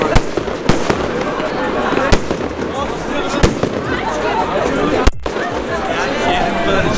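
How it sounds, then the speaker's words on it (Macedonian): Fireworks go off outdoors in a handful of sharp, irregularly spaced bangs over a constant roar of crowd noise and background voices. "Огномете."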